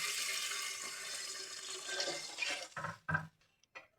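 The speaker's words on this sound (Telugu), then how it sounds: "మా డాడీ ఇప్పుడు అందాజతో నీళ్ళు పోసిండు." Water pours from a pot into a cooking vessel at home for bagara rice, a steady broad splashing rush that runs for a few seconds, then breaks into short splashes and drips before stopping.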